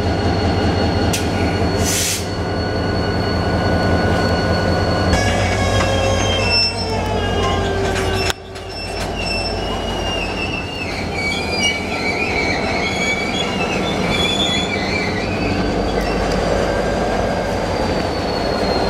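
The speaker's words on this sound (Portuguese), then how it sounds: "Vamos para Morretes no trem." Passenger train on the Curitiba to Morretes line, loud and steady from on board, with rumbling wheels, a prolonged metallic squeal from wheels grinding through curves, and occasional clacks over the rails.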